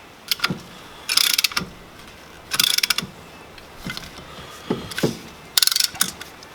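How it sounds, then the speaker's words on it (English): A ratchet clicks in short bursts while a brake caliper piston compressor tool pushes the piston back, several separate ratcheting strokes with pauses between, close and loud. "You just start ratcheting it."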